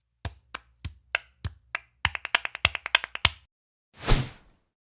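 Flamenco palmas for bulería, crisp hand claps ringing out alone, first spaced steadily, then tightening into a rapid accented run, ending with a short breathy burst of noise.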